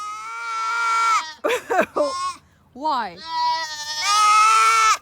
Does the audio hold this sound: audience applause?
no